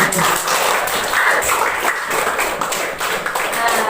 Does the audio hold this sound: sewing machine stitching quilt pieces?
no